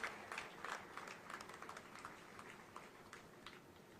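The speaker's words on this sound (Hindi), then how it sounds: "तालियों के माध्यम से व्यक्त कर रहे हैं" Applause from an audience honouring an award recipient at a Veda award ceremony in Ayodhya, a soft, steady patter of many hands clapping at a distance, faint throughout the short stretch.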